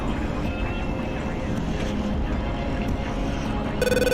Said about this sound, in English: we're gonna do a blower takeoff